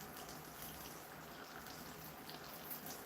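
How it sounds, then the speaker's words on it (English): Steady, dense crackling and hissing like food frying in a hot pan, constant and fairly quiet throughout. "Is the sound of all that sizzling coming through on the mic?"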